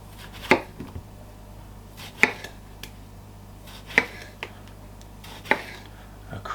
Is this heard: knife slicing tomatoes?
yes